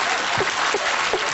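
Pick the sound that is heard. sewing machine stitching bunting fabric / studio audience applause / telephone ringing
studio audience applause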